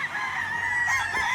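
Black pullets in a coop cluck and crow in a steady, continuous chorus, several birds close by and fairly loud with no talking over them.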